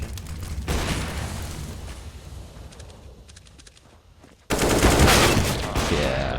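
Gunfire in Counter-Strike during a FACEIT match, a dense stretch of shots and combat noise that turns suddenly louder and fuller near the end, with no talk.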